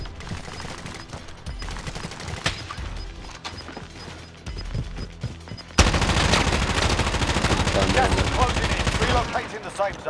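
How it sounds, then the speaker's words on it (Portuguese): Rapid bursts of automatic gunfire in Call of Duty: Modern Warfare, scattered at first and then a loud, dense continuous barrage of shots during an online match. "Tá aqui em cima, tá me atirando."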